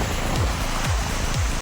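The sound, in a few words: waterfall at Shymbulak mountain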